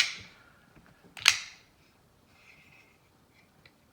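A Direware Solo V5 titanium-lock-side, bearing-driven knife fires open with a single quick snap, close and fairly crisp, amid a few faint small clicks in an otherwise quiet room.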